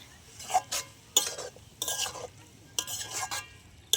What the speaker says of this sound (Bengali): ভালোভাবে নাড়তে হবে।